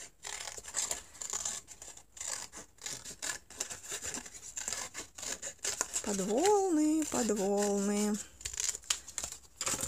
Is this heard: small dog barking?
no